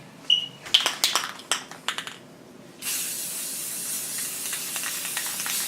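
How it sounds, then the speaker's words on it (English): Several short, sharp spray bursts in quick succession, then a steady loud hiss of spray paint running continuously for a few seconds, close to the microphone, coating a tabletop terrain piece. "now it's all spray painted"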